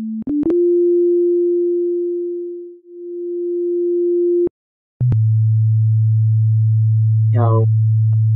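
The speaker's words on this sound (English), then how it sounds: "with a sine wave, you don't have much harmonics at all, so these lower notes are basically not audible at all" Pure sine-wave synthesizer notes with almost no harmonics: a steady mid tone held for several seconds, a brief gap, then a low sustained note joined by a short warbling chirp, all clean and alone.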